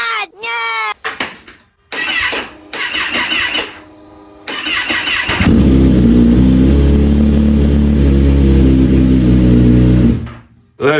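A 2020 Kawasaki Ninja ZX-10R, a salvaged crash bike, cranks with brief bursts of talk between attempts, then catches and settles into a loud, steady idle that runs for several seconds before cutting off.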